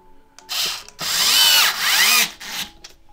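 An electric screwdriver whirs in three or four short bursts while driving a screw into the power supply of an Xbox One X console during a repair. It sounds close and loud, with no talking.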